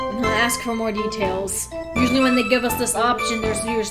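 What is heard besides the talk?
No everyday noises stand out.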